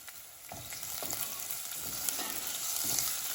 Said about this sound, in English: And we're gonna continue to cook these onions out.